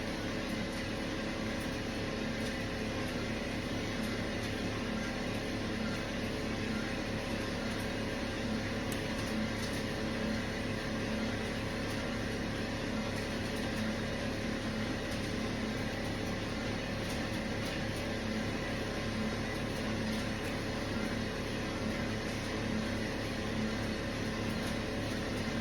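A gas-flame coffee roaster runs while roasting Ethiopian Yirgacheffe beans, a steady broadband roar and hum that stays even and continuous throughout, close with no talking.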